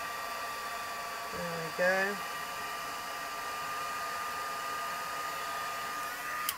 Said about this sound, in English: So heat that up. I love heat embossing.